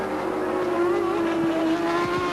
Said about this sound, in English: Tambay's Ferrari turbo under a lot of pressure there from Niki Lauda's normally aspirated McLaren